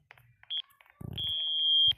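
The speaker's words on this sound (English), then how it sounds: "Is there another alarm?" Fire alarm at an airport during alarm testing gives a short high beep, then a long sustained tone lasting most of a second, sharp and close, with brief indistinct sounds between.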